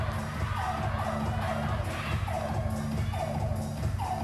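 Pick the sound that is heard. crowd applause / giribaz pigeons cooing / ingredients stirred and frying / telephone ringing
crowd applause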